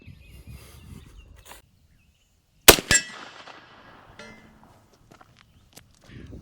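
A single lever-action rifle shot cracks sharply and loudly after quiet outdoor shuffling, followed by a brief echoing rumble and scattered faint clicks.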